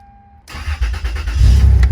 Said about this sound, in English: So I guess this thing is ready to crank it up.